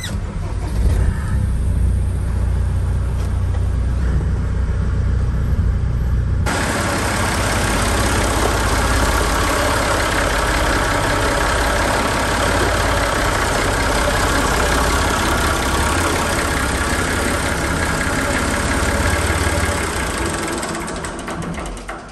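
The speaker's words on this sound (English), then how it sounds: "I'll fire up the old Defender." A Land Rover Defender diesel engine starts up and settles into a steady, loud idle that rumbles on continuously, close by.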